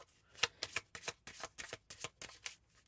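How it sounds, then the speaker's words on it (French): Marseille tarot cards are shuffled by hand in about ten crisp, evenly spaced riffling bursts, close and soft against near silence, with no talking. "je vais prendre 4 cartes avec cet oracle-ci"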